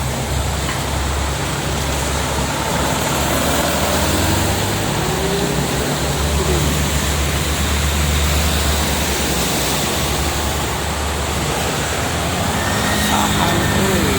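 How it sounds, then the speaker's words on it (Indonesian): Heavy rain pours onto the Jakarta-Cikampek toll road in a loud, unbroken hiss, mixed with the low rumble of passing traffic, lasting throughout with no clear talk. "lumayan deras ini hujannya dari tadi"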